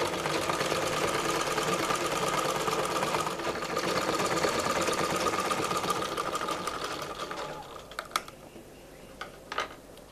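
A sewing machine stitching petticoat panels runs in a steady, fast mechanical whir for most of the stretch, then stops, leaving a few sparse clicks and handling sounds.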